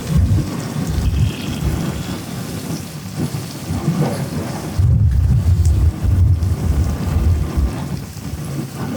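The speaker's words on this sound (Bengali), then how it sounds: "এত বাতাস যে মশলাই উড়ে যাচ্ছে" Strong wind gusts buffet an outdoor spot where chicken curry is being cooked. Loud, low roaring rumbles swell and ease over the full stretch, with a heavier surge partway through.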